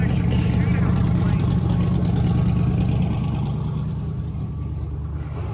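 Drag race cars of around 4000 horsepower sit lined up and idling, a deep, steady low rumble of large engines that stays loud before easing slightly toward the end.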